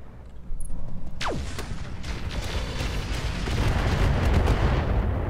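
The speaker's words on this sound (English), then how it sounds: "I'm under heavy fire." Heavy weapons fire during a Roguetech mech battle: a loud, sustained barrage of booming shots and blasts that builds and rolls on, with a brief whistling streak near the start.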